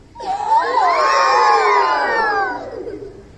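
A group of children let out a long, loud, wavering cry together, voices imitating an elephant's trumpet, rising and then fading after a few seconds.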